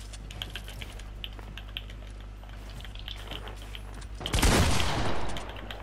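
Gunfire in Fortnite: a rapid, even patter of small distant shots under a steady game hum, swelling into a louder, closer burst near the end.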